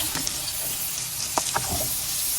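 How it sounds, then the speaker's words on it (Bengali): Pieces of pangas fish fry in oil, a soft, even sizzle near the pan with a few brief clinks and scrapes over it. "আমি লাল লাল করে মাছগুলো ভেজে নিচ্ছি।"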